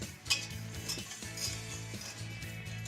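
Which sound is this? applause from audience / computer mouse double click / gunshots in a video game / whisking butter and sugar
whisking butter and sugar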